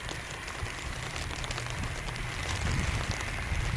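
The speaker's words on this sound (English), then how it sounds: "Look how dense that rain is." Dense, heavy rain pours down steadily in the Philippines, a continuous close hiss with no voices.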